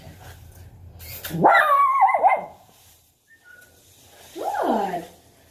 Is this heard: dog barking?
yes